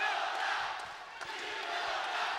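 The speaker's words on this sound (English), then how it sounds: "And the crowd here chanting Viloria." Fans at a boxing match between Viloria and Romero chant Viloria's name, a dense, sustained crowd roar that swells and dips slightly with a few sharp thumps mixed in.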